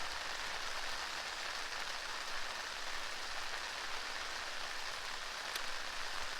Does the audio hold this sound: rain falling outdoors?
yes